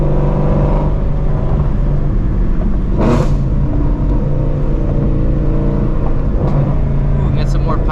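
Exhaust pops crackle from a Shelby GT350 Mustang while driving, a couple of sharp bursts cutting through a loud, steady engine drone and road rumble heard from inside the car.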